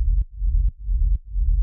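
A techno sub rumble pulses as a dense, low, droning throb, swelling and dipping in a steady repeating cycle, with faint clicks of ducking at regular intervals.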